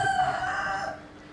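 A rooster crows in one sustained call, fairly close and clear, trailing off toward the end with no voices over it.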